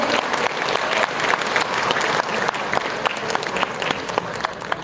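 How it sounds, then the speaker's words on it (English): Sustained audience applause fills the room at a luxury residential project unveiling, dense, steady clapping from a sizable crowd throughout with no speech over it. "So one huge round of applause."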